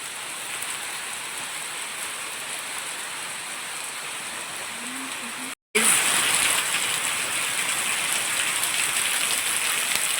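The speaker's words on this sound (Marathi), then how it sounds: "पाहू शकता तुम्ही किती जोरात पाऊस आलेला आहे" Steady heavy monsoon rain pours down in a village near Alibag, a dense continuous hiss of drops drumming on surfaces; after a brief cutout it returns even louder and closer.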